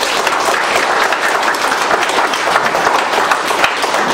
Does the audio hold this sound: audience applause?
yes